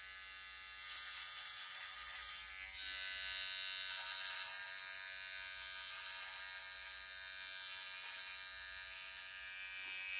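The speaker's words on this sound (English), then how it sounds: "I'll take the trimmers and I'll go this way and I'll go this way with it" Electric trimmers buzzing steadily as they trim a moustache along the corners of the mouth, a close, continuous high whine with slight shifts in pitch as the blades move, with no talking.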